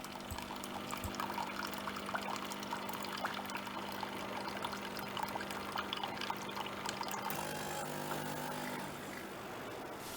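Rinse water from a DeLonghi Nespresso Lattissima One pours steadily into a gravy jug, a continuous trickling stream over a low machine hum that shifts tone near the end.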